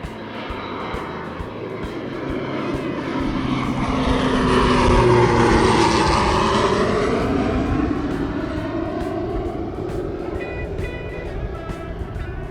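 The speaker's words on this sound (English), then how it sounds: "Mandatory plane break." A propeller airplane flies past, its engine drone rising from moderate to loud as it nears overhead around the middle, then fading gradually as it moves away, with a clear pitch drop as it passes.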